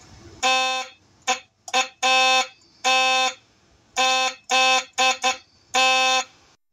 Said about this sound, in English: Here it is with a post-war horn.